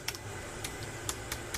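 Crisp, clicky keystrokes on a Brydge Air keyboard case for a 9.7-inch iPad Pro, five or six separate taps spread unevenly across a quiet room, close and fairly faint with no talking.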